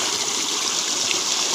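A small river runs over its bed in a continuous, fairly loud hiss and burble, close by and unbroken, with no talking over the steady flow.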